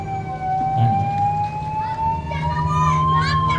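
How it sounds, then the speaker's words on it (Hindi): A police siren wails steadily nearby, its pitch slowly rising, with passing traffic and faint voices underneath. "कोई गाड़ी आ गई, पुलिस की गाड़ी आ गई"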